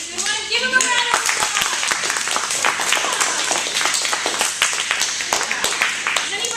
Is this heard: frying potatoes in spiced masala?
no